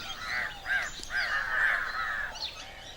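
Several crows give harsh caws while feeding on nectar from flame of the forest trees in flower, a few calls in quick succession close by with no talk over them.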